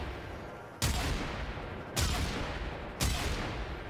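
A weapon fires in a video game: three loud, sharp single shots about a second apart, each with a short ringing tail and no talking.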